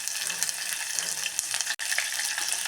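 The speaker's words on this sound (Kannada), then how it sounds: "ಸ್ವಲ್ಪ ಈರುಳ್ಳಿ ಫ್ರೈ ಆಗಲಿ" Onions sizzling in hot oil with cinnamon, star anise and cloves for tomato bath, a steady close frying hiss throughout with one brief drop near the end.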